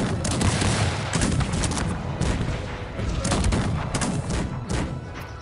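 Musket volley gunfire in the strategy game Cossacks 3, a loud, sustained crackle of many overlapping shots and booms from a large army, continuous and dense without pause.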